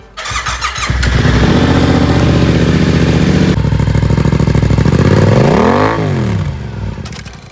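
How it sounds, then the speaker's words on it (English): A Yamaha R7 motorcycle with a Two Brothers aftermarket exhaust starts and revs loudly up close, the exhaust roaring and rising in pitch before dropping back, with a crackling, throaty tone. "The Two Brothers exhaust cracking."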